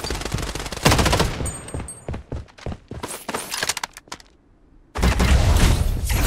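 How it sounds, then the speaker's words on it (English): Defensive turret in Blood Strike fires bursts of rapid automatic gunfire, loud and close, with dense rattling volleys, a brief lull, then another sustained burst. "Defensive turret activated."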